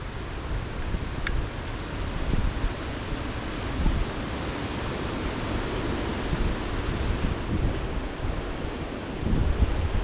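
Wind blowing outdoors on a rocky off-trail hillside in New York State, a continuous broadband rush with gusty buffeting against the microphone throughout, no talking.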